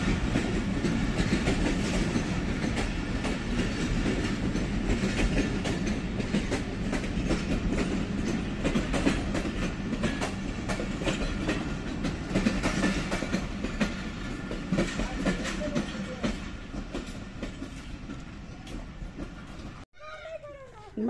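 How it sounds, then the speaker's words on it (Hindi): A long train rolls along railway tracks, a steady, loud clickety-clack of wheels and rumbling wagons that lasts about twenty seconds before cutting off abruptly near the end. "ये कितने डिब्बे यहाँ खड़े हो गए ना बहुत लंबी ट्रेन है"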